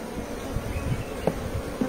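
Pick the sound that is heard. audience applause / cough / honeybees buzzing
honeybees buzzing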